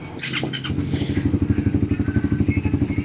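Vehicle engine at a car-care service after injector cleaning, cranking and catching in a clatter, then settling into a loud, close, rhythmic idle with even pulsing firing beats.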